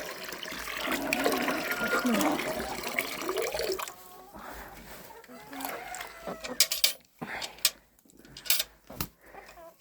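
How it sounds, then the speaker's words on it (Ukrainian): Warm water pours from a bucket into a drinker for bantam chickens, a splashing stream for about four seconds, followed by scattered knocks and clucks, with someone talking softly. "давайте вам налю сюди теплої водички"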